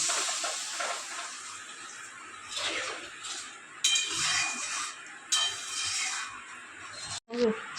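Water poured into a pan of lightly fried fish curry seasoned with salt and turmeric, a steady rushing hiss with clinks of a utensil against the pan, close and fairly loud, ending in a brief sharp clatter.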